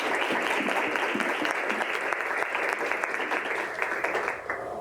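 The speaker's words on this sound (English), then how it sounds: "Give a round of applause for Melissa and her son Lauren just for being here" An audience at a United Way gathering gives a steady, fairly loud round of applause for a mother and her son, with dense clapping carrying evenly throughout.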